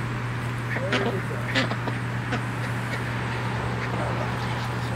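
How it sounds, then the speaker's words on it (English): Rouen ducks quack now and then at moderate distance over a steady low hum and outdoor background noise on a homestead. "Now these are my Rouen ducks"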